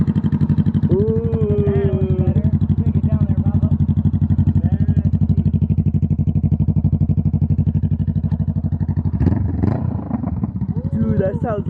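A 2020 Honda CBR500R with its muffler deleted idles loudly with a deep, throbbing exhaust burble, while nearby voices talk over it and a brief rev swells near the end.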